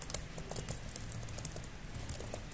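Quiet, steady tapping on a computer keyboard, a run of soft irregular keystrokes close by with faint clicks, and no speech.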